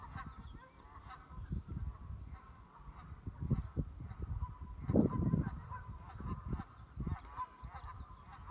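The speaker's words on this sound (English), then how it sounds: "And Canadian geese." Canada geese honk repeatedly in the open on a spring day, a flock calling in irregular overlapping bursts over steady outdoor background noise, louder around the middle.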